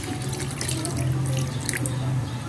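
Water poured into a cooking pot for adobo sa asin, a steady splashing, gurgling stream with a low filling tone, close and continuous without pause.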